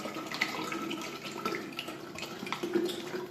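Tap water running into a measuring cup while preparing kefir, a faint steady splashing trickle with small gurgles, heard alone and without talk.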